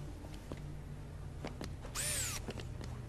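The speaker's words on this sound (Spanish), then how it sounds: "Taladro." Power drill in the zombie video game Dead Rising 2: Case Zero, a brief rising whine that sweeps upward for about half a second over game music and scattered thuds, fairly quiet overall.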